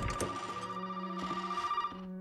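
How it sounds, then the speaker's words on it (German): A telephone rings in the Resident Evil 7 game, a steady electronic bell tone that repeats in short bursts at moderate loudness without any talk over it. "jetzt klingelt das Telefon"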